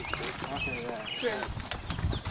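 Horse hooves clip-clop on a trail ride at Philmont, a steady uneven clatter of steps heard close by under a rider's nearly continuous talk and calls.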